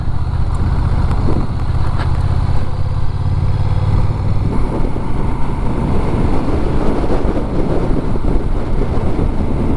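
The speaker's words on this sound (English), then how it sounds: "I haven't ridden this bike on gravel before." Honda Rebel 1100 motorcycle ridden on gravel: a steady, loud engine drone with rough wind buffeting, turning into a dense crunching, rumbling texture as the tires roll over loose stones.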